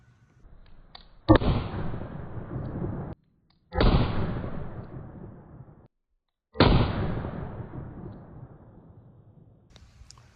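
Three loud pistol shots fired with non-magnum primers over a chronograph, each a sharp crack followed by a long echoing decay, spaced a few seconds apart outdoors.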